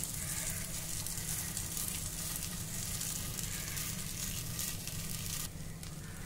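Oats chilla batter sizzles and fries on a pan over low gas, a steady bright hiss throughout with a slight dip near the end, no talking.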